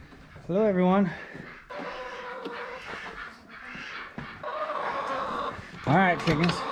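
Chickens cluck and squawk close by in a barn on a cold winter homestead, with a couple of louder drawn-out calls, while a person talks over them.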